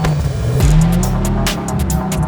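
Toyota Supra tuned to 1,100 horsepower, engine revving loudly and steadily with a low droning tone that climbs in pitch, accompanied by bursts of hiss from the turbo or exhaust.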